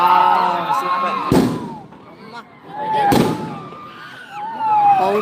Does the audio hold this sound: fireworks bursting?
yes